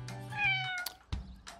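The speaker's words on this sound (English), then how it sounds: "that sounds like a kitten" A single high, drawn-out meow from a kitten, close and clear, followed by a soft short sound.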